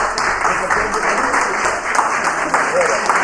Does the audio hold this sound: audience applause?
yes